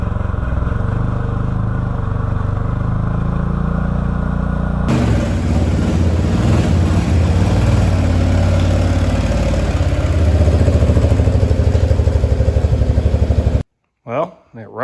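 A 2013 Can-Am Maverick side-by-side with a badly slipping drive belt runs steadily and loudly close by, its engine note shifting as it pulls, with voices talking over it before it cuts off near the end.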